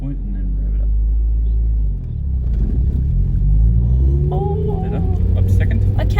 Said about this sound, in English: Now when it's time to start, Get that quiver point and then rev it up.